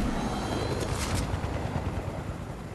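Helicopter in the Fortnite video game, a dense continuous rotor and engine roar with a brief brighter swell near the start, fairly loud and steady with no talk.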